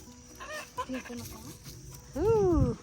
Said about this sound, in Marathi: या सगळ्या गावरान कोंबड्या आहेत आपल्याकडे